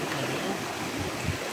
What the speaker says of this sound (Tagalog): Ito, may ilog dito.